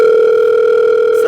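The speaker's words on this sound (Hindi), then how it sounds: "सर आपका फोन आ रहा है।" A phone rings at a busy film preview launch event, a steady electronic tone sounding loud and continuous with no one talking over it.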